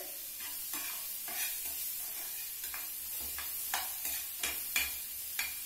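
Tomatoes and dried red chillies fry in oil with onion while a spoon stirs them in the pan, giving a soft sizzle broken by repeated scraping strokes and light clinks, close and fairly quiet with no talk.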